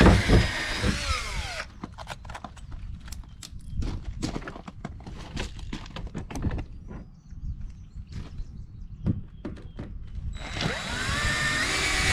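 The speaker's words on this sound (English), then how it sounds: "You have to take these rivet heads off the drill bit each time" Bursts of power drill whirring drilling out rivets on a portable toilet start and stop repeatedly, with clicks and metallic clatter between them, close by and fairly loud.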